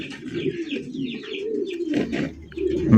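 Pigeons coo in low, throaty rolling calls close by, several birds overlapping, with occasional higher chirps and rustling.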